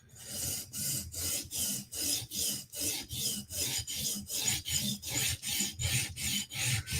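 A blade being sharpened by hand, a steady rhythmic rasping stroke about three times a second, close and even, repeated throughout with no talk.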